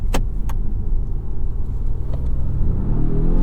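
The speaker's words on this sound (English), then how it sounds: "Feel that instant torque there from that electric motor. Yeah, that's really pushing me back." A 2023 Volvo S60 Recharge accelerates on electric motor torque, a dense, loud cabin rumble with a faint whine rising in pitch toward the end and a couple of light clicks early on.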